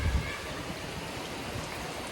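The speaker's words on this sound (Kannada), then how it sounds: "ಒಂದು ಜೋರು ಮಳೆ ಸ್ಟಾರ್ಟ್ ಆಯ್ತು ಕಣಿ" Heavy rain during a thunderstorm in Bangalore, a steady broadband wash that stays even and continuous throughout, with a brief low rumble at the very start.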